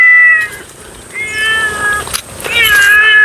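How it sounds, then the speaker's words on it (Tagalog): A cat on a farm plot used for rat control meows loudly and close by, giving several drawn-out, wavering cries in a row. "So ito po yung isa ay totoong pusa na to Ming!"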